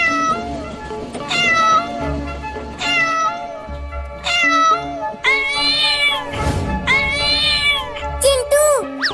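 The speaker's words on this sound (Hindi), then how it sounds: "ये बिल्ली इतना बोल क्यों रही है, वो भी हमारे पास आकर" A cartoon cat from a Hindi comedy cartoon meows loudly and insistently, with a string of long, wavering cries, some sounding almost like sobbing, near and prominent throughout.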